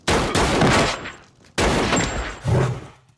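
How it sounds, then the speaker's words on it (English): Gunshots ring out in a cartoon, two loud bursts of rapid fire separated by a brief pause, each trailing off with a tail of noise, with no talk. "Oh my god, the fire's got a gun!"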